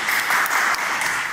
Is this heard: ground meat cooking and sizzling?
no